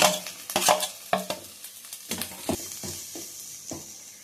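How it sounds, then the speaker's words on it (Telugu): Ginger garlic paste fries with golden onions and curry leaves in a pan, with a quick run of spoon scrapes and knocks against the pan over a light sizzle. "ఇప్పుడు దీనిలో అల్లం వెల్లుల్లి పేస్ట్ వేసుకోవాలి"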